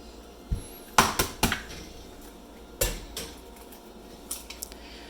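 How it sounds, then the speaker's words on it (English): Two eggs cracked against a mixing bowl while baking chocolate crinkle and peanut butter blossom cookies: sharp, close taps on the rim in small clusters, separated by a pause, in a quiet kitchen. "now we're going to put in our 2 eggs"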